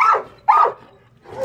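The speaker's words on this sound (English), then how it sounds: "He runs past the dog that are growling at me." Dogs in shelter kennels bark in two sharp, loud bursts close by, a third bark starting at the end, with no talking over them.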